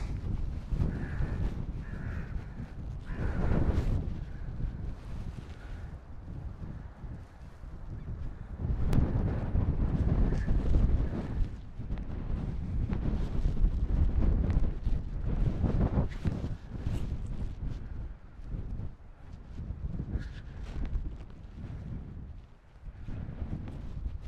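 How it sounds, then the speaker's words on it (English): Strong, cold wind gusts buffet the microphone on an open hilltop under clear sky, a loud rumbling roar that surges and eases continuously throughout. "the wind is very strong and"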